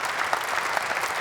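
Audience applause at the official inauguration of the Borssele 1 & 2 offshore wind farm in the Netherlands, a steady dense wash of clapping from a large crowd with no speech over it.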